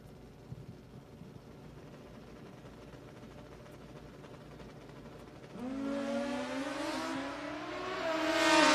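Drag racing motorcycles, including a Hayabusa, at a sportsman drag strip: a quiet stretch, then a rising engine howl that climbs in pitch through the gears and grows louder as the bikes launch and pull away.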